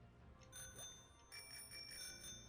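A bicycle bell rung in the Pokemon Sword Isle of Armor game: bright metallic rings sound twice in quick succession, clear and fairly soft over a low background hum.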